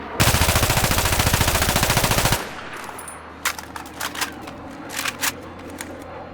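AEK-971 assault rifle in Battlefield firing a loud rapid automatic burst of about two seconds, then quieter clicks and clacks of the reload mechanism spaced over the following seconds.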